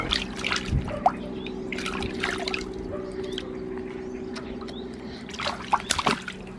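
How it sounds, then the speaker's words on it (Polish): A child splashes water in a small inflatable paddling pool outdoors, with scattered close splashes and drips over a low steady hum and soft background voices. "kto tak chlapie?"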